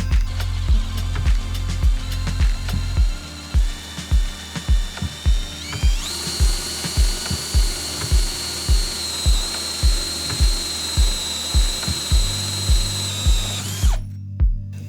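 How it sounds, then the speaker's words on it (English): A power drill whines and grinds steadily up close, with a rhythmic pulsing chatter as it bores into a water tank in a work van, rising in pitch midway before stopping. "It is time to drill a hole into our nice, beautiful,"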